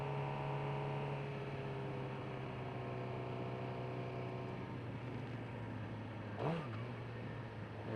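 A 2018 Suzuki GSX-R 600 engine drones steadily at riding speed, then a short blip and dip in revs marks a downshift near the end, heard amid wind rush with no talk.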